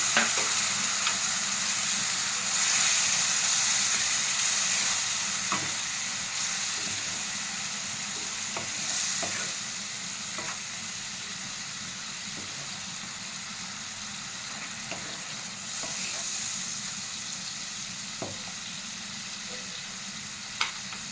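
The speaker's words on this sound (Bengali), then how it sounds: "অল্প জল দিয়ে মশলাটাকে ভালো করে কষিয়ে নেব।" Spice paste for prawn pulao frying with a splash of water in a pan, giving a continuous close sizzle and hiss, with occasional soft scrapes and taps from stirring.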